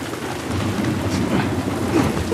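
Steady rain in the video game The Last of Us Part I pours down in a constant hiss, with a low rumble underneath, continuous and fairly loud throughout.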